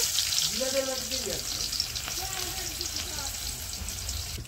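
Cumin, bay leaf and onions frying in hot oil give a steady close sizzle, with a voice talking over it through much of the stretch.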